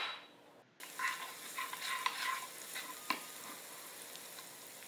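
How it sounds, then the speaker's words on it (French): Onions sizzle in a pan of butter and olive oil, a steady crackling fry with faint stirring clicks and one sharper knock, after a quieter opening second. "Là, je mélange et puis je laisse les oignons revenir."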